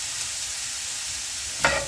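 Cauliflower and capsicum sizzle steadily in a hot pan, a continuous close hiss that ends in a brief louder toss or scrape.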